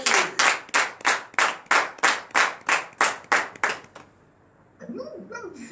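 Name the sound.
congregation clapping and applause for Jesus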